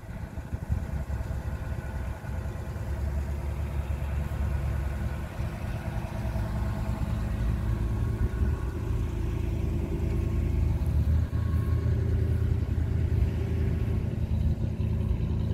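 A red and white 1955 Chevrolet Bel Air convertible's engine runs at a steady idle, a low continuous rumble holding even throughout with no voices.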